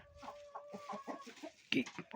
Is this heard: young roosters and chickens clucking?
yes